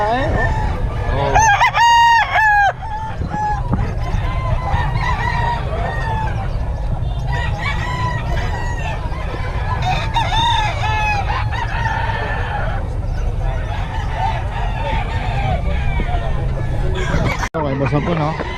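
Roosters crow loudly and close by, again and again, while chickens cluck throughout a busy poultry gathering, with people talking over the birds.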